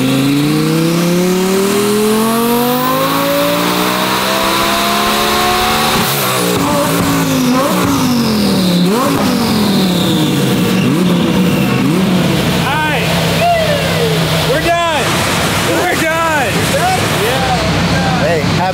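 A street race car with a stock motor accelerating hard, its loud engine rising in pitch through several gear changes and then revving in repeated surges, close and dominating throughout.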